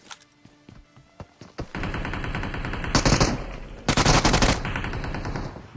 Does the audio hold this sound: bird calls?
no